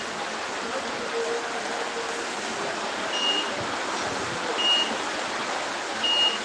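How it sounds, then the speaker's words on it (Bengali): Heavy rain in Barguna, Bangladesh pours in a constant wash of noise, with a few faint high electronic beeps repeating in the background. "দেখছেন কি পরিমাণ বৃষ্টি"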